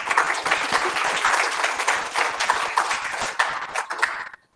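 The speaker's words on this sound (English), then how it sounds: "Let's give her a round of applause, please." An audience at a community meeting in the Hutchinson area about proposed fossil gas plants gives a full round of applause, a dense burst of clapping lasting about four seconds before stopping abruptly.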